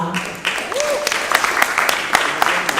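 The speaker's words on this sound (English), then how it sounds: "with a resounding round of applause" Audience applause at an awards ceremony for young African leaders, a dense steady wash of clapping with sharp individual claps, a whistle-like tone and some crowd voices mixed in.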